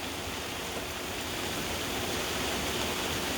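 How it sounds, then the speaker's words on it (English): Heavy rain pours steadily on a river boat on the Illinois River, a dense, even roar of water close by with no let-up and no voices. "It's pouring."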